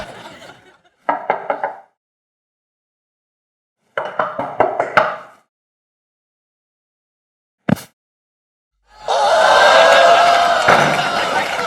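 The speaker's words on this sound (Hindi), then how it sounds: "अरे कमरे का दरवाजा खटखटाएंगे तब पता लगेगा" Knuckles rap on a room door in a comedy scene: two quick bursts of several knocks separated by silence. A single sharp bang follows, then a loud stretch of noisy commotion.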